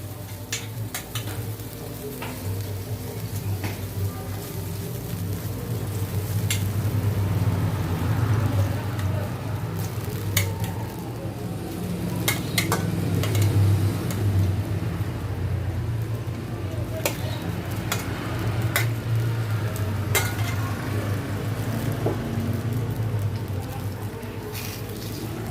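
A pot of red snapper fish soup boils steadily, a dense continuous bubbling hiss with scattered sharp pops and clicks, close up and sustained throughout.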